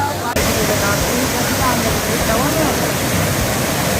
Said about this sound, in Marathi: शीतल मोरे पोचलेली आहे पहिली धबधब्यावर